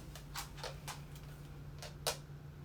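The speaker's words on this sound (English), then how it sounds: "From the sound of my dog's nails, I think they need trimmed." A dog's nails ticking on a hard floor as he walks, a handful of light, irregular clicks spaced apart, faint and close by in an otherwise quiet room.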